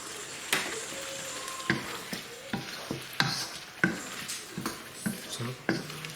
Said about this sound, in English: So keep mixing, get it all in